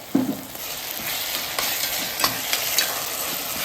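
Cashews being sautéed in a pan sizzle steadily up close, with occasional spatula scrapes and light clinks as they are stirred, no voices present.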